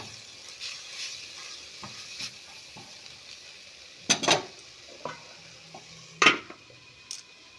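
Beet and carrot being stirred with turmeric and salt in a pan: quiet sizzling under scattered scrapes, with a few sharp utensil clinks against the pan.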